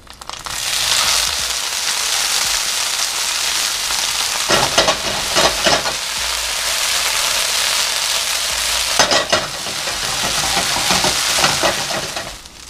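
Gnocchi fry in a pan with browned garlic, giving a loud, continuous close-up sizzle. Two bursts of clattering and scraping come as the pieces are stirred and tossed.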